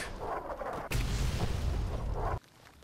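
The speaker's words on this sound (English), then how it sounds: "I'm being shot at" Heavy gunfire in Fallout: New Vegas: a sudden loud booming shot breaks into a dense roar of firing for about a second and a half, then cuts off abruptly.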